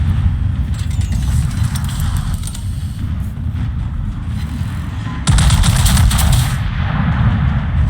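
Dense, loud video game gunfire rattles nonstop through a chaotic battle, rapid automatic bursts layered with booming shots, growing heavier and harsher after a few seconds.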